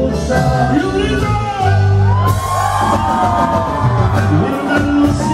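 Live crowd at a Tejano festival concert shouting and whooping loudly, a dense wall of cheers and yells swelling over ongoing music throughout.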